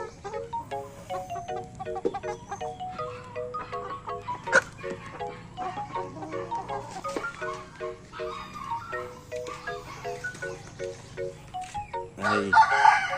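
Free-roaming chickens cluck steadily at moderate distance with a rooster crowing among them, a louder burst of crowing and flapping rising near the end.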